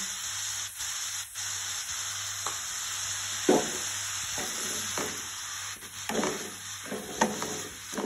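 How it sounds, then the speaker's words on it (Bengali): Chopped onions with salt sizzle in hot oil for chicken curry, a steady crackling fry broken by scraping stirs of a utensil against the pan. "যে পেঁয়াজগুলো আমি কেটে রেখেছিলাম সেই পেঁয়াজগুলো আমি দিয়ে ভালো করে তেলের সাথে মিশিয়ে নেব।"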